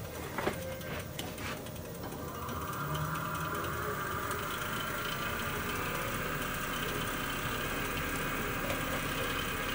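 A wood lathe spins a natural-edge bowl blank at 1,000 RPM. After a few early clicks it settles into a steady, faint mechanical whir and hum, with no voices.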